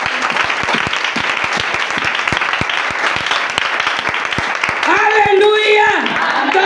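A church congregation claps in dense, continuous applause, loud and close, and a raised voice rises over the clapping near the end.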